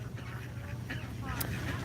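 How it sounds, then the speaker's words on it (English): Ducks at a reflecting pool give a few faint, brief quacks, mixed in with people talking nearby. "we got some dogs that are going to scare away the ducks here"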